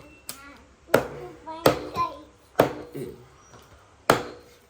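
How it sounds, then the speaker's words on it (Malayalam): A knife chops through fish into large pieces on a cutting surface, giving five loud, sharp, evenly spaced thuds, close by and with faint murmuring between strokes. "നമ്മൾ അത്യാവശ്യം വലുപ്പമുള്ള പീസാക്കിയിട്ടാണ് കട്ട് ചെയ്തിട്ടുള്ളത്"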